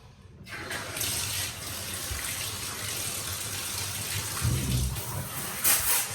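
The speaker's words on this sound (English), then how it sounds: "So rinse, rinse, rinse, and then rinse some more." A golden retriever's coat gets a thorough rinse during home grooming: water pours in a steady, continuous rush close by, with a brief heavier splash near the end.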